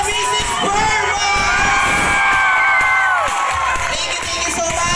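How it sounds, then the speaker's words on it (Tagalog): Wedding guests cheer and shout loudly in a dense, sustained crowd roar, with whoops and children's yells rising over the din throughout. "Isang palapakan na may kasamang hiyawan para kay Mr. and Mrs. Burma!"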